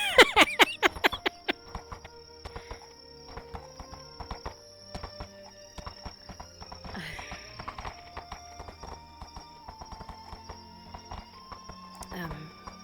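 Horse hooves clip-clop at a walk in a VRChat role-play game, a quick burst of steps up close at the start and then lighter steps further on, with a whinny and talking mixed in.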